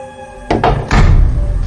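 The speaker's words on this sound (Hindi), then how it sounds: "ये दरवाजा कैसे बंद हो गया?" A door swinging shut on its own inside a bedroom at night in a horror story, heard as a couple of close wooden thuds followed by a heavier bang and a short rumbling tail, with no voices.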